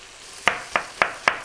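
Bacon hits a dry, oil-free pan, giving four sharp sizzling spits in quick succession over a quiet hiss, close and crisp with no talking.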